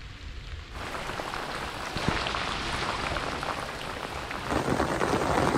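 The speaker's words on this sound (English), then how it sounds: "Major storm just hitting." Heavy midsummer rainstorm pelting a public lake: a dense, hissing downpour that starts abruptly and keeps building in loudness. It sounds close and enveloping, with no talk.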